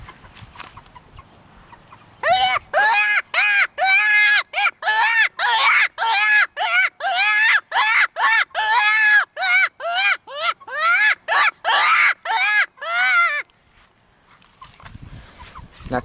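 Cottontail rabbit distress predator call, a Knight & Hale hand call, blown in a rapid series of about twenty loud, wailing squeals, close and alone with brief pauses between blasts.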